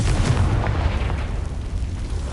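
A Confringo blasting spell explodes in the Hogwarts Legacy video game, giving a loud, sustained rumbling boom with crackling debris that fills the whole moment without easing off.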